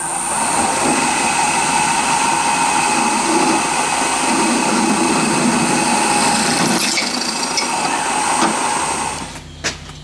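Twist drill biting into a small piece of sheet metal, a loud steady whining drone with ringing metallic tones that cuts off abruptly near the end, followed by a short clatter.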